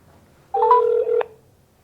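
A short electronic phone tone sounds alone, a steady tone of under a second ending in a brief sharper blip, like a call being placed and blocked.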